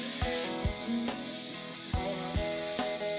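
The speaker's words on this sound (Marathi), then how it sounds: "1 चमचा हळद, 2 चमचे लाल तिखट आणि 1 टोमॅटो बारीक चिरलेला आपण ह्याच्यात घालून तेल सुटेपर्यंत आता हे परतून घेऊया" Turmeric, red chili powder and finely chopped tomato sautéing in hot oil in a pan, with a steady close sizzle and several sharp spatula scrapes and clinks over the frying.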